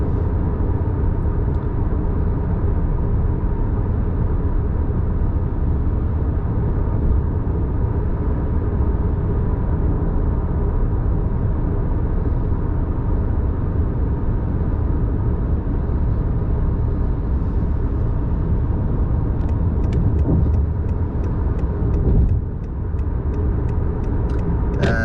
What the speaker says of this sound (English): Right now I am hearing a lot of road noise